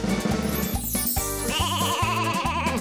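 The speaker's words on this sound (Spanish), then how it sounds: "¡Esa es la oveja!" A sheep bleats in short, wavering cries over a bouncy children's farm song, loud and close, with no talking during the sound.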